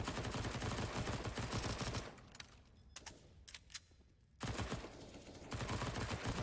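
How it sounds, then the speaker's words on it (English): Rapid rifle fire in Counter-Strike on the Mirage map, dense loud volleys, then a lull with several isolated single shots before heavy automatic firing resumes, close and without talk. "Couple of shots ringing back and forth"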